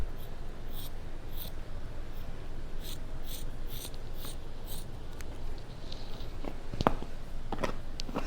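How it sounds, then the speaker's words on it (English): Scissors cutting upholstery fabric while a chair is being reupholstered, a run of quiet rhythmic snips and rustles close by, followed by a few sharper clicks near the end, with no talking. "I cut it with the scissors."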